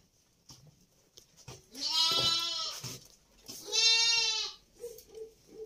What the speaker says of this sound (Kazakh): Мына жерде де ешкілер.